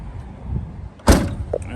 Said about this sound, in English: Okay, so just closing up the rear door now